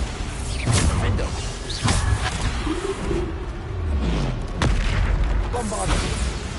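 Booming spell blasts from the Bombarda charm in the Hogwarts Legacy video game, several heavy thuds spaced a second or so apart amid roaring creature noise and game clatter.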